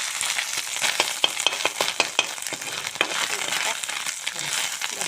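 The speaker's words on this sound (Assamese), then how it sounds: "এতিয়া পোনপ্ৰথমে মই কণীকণ ভাজি ল'ম" Egg seasoned with salt and turmeric fries in a pan, giving a steady close sizzle with crackling pops and occasional scraping stirs throughout.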